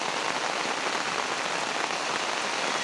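Steady rain pours across flooded paddy fields during rice transplanting, a dense, even hiss of drops hitting water and mud with no voices, continuous for the whole stretch.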